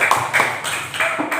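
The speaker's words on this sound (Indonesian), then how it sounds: "Tepuk tangan dulu." Several people, children in a classroom, clapping hands in short bursts, a few quick claps at a time under brief voices, close and moderately loud.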